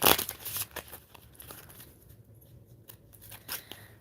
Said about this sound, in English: I'm gonna even shuffle them extra so y'all see.